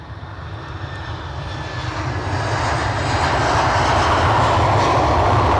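A plane taking off and climbing out from Edinburgh Airport, its jet engine roar swelling steadily louder over several seconds into a sustained, powerful rumble, heard alone and fairly close.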